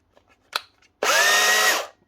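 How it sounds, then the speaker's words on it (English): A Bosch GBH 24 VRE 24-volt cordless SDS hammer drill, freshly repaired with new brushes, whirs loudly at close range in a single burst of under a second, after a couple of faint clicks. "Bosch GBH24VRE up and running again, with a set of brushes and a wee battery retainer."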